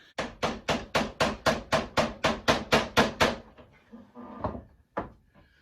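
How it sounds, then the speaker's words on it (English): A rapid, even series of about a dozen sharp hammer taps on metal, followed by a few slower, scattered knocks. "I'll take the hammer and do a little bit of tapping on that"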